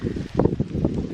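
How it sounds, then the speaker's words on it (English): Steady wind blowing outdoors in the mountains near woods, a rough low rumble buffeting the microphone in uneven gusts, close and moderately loud, with no voices. "sorry if it's really windy"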